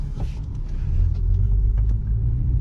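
An Audi TT Mk1 3.2 V6 pulling hard in second gear, a loud, steady low engine rumble heard from inside the car, with no one talking.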